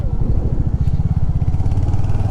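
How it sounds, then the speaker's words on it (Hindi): Motorcycle engine running on a Kashmir to Ladakh road trip, a loud, close, steady low thumping idle that fills the whole stretch with no talk. "मैंने बोला बाइक स्टार्ट करके देखनी है मेरे को, तो भाई मज़ा आया स्टार्ट करके"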